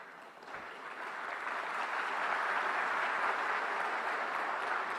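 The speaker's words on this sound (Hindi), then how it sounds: "आप गया था इसकी ताली बजा रहे हो" Sustained applause from an audience filling a large hall in Yashobhoomi, a dense steady wash of many hands clapping that swells slightly and holds, with no talk over it.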